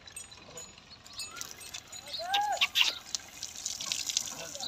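Water splashes and pours over a buffalo calf during a bath at home, with uneven trickling and slapping bursts that grow louder midway, close by, and no talk.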